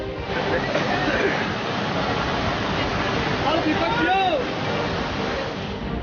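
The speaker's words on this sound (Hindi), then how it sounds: "पानी की रफ्तार में सब कुछ तिनके की तरह बह रहा है।" Rushing floodwater roars continuously during heavy monsoon flooding in northern India, a dense, loud, steady wash with faint voices or commotion mixed into the torrent.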